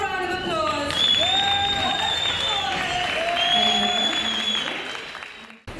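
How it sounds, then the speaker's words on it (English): Audience applause at a Go See UK evening from the Department of Economic Development and Tourism, with steady clapping and a crowd murmur under prominent whistling and tonal sounds, fading out near the end. "Can I have one more round of applause?"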